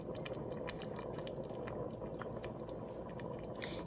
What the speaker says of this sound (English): let that come to a boil, a good boil. Look, it's starting already